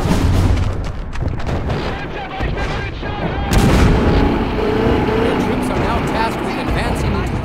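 Booming artillery shots and gunfire from a battle in the game MOWAS 2, crossing the river Meuse at Dinant in May 1940, heavy blasts layered with voices shouting in German over the din.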